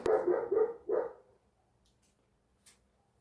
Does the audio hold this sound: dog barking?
yes